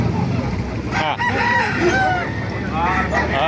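A white Kelso rooster crows at a crowded chicken market in Baliuag, one clear drawn-out call rising over the bustle, with other fowl clucking and people talking in the background.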